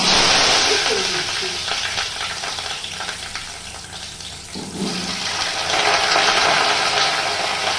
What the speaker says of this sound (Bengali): দিয়ে দিচ্ছি গরম মশলা, ফোড়ন দিয়ে দিলাম